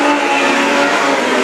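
Legend race cars roar in a dense pack on a track during a heat race, a loud, continuous, close engine blare with no break.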